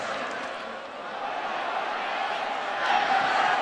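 In a college football game between Florida State and Boston College, the stadium crowd roars and shouts in a broad, distant swell that builds toward the end, with a commentator talking over it.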